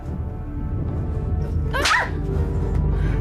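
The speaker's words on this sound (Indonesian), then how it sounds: "Tampar aja." A single sharp slap lands mid-scene in an Indonesian TV drama, one loud crack over a dense, steady background of room noise.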